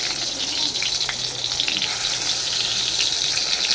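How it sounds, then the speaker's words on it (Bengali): Brinjal frying in hot oil in a kadai, with a continuous bright sizzle and a few crackling pops, close and steady throughout and no talking. "এবার জাস্ট একটু বেগুন ভাজবো"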